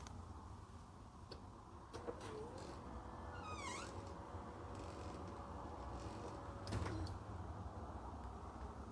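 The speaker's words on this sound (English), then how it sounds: "the door opens" Motorized smart door opening from a push-button switch: a quiet steady motor hum runs for several seconds in a calm room, with a cat meowing partway through and a soft thud near the end.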